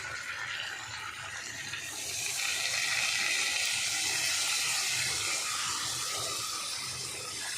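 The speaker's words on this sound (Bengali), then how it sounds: "এটা দিয়ে একটু জল দিয়ে নাড়াচাড়া করবে" Water poured into a hot pan of spices such as cardamom and cumin, a broad steady hissing rush that swells after a couple of seconds and holds, with no voices.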